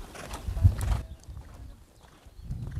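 Horse hooves clip-clopping during a warm-up at a riding club, a few close hoof falls in the first second, then quieter, sparser steps.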